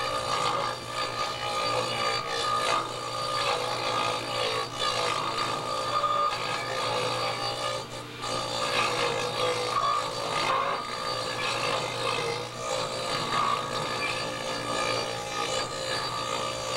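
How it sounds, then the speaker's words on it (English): A tenon cutter shapes the end of a log for log furniture, giving a continuous rough, rasping grind of wood being cut with a steady motor hum underneath, loud and close throughout. "You slide the workpiece all the way on, then start bringing it down to the cutter."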